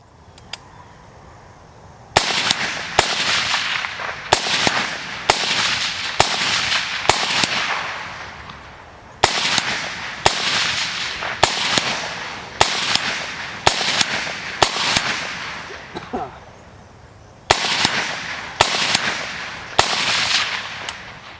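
Suppressed semi-automatic rifle shots, a sharp sonic crack with each one, fired outdoors in rapid bursts of several evenly spaced cracks separated by short pauses, loud with a brief echoing tail and no voices.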